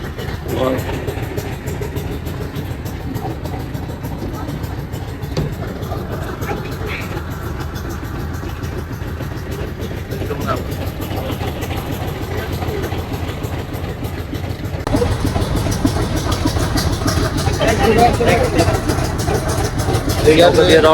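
A boat engine drones on the way to the Sundarbans, a continuous low rumble under someone talking, getting louder and rougher partway through.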